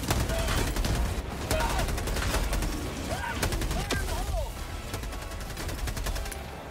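Sentry turret gunfire in the game Helldivers 2, rapid bursts of shots over a loud battle backdrop with fast rising and falling electronic tones, plus voices shouting under the fire.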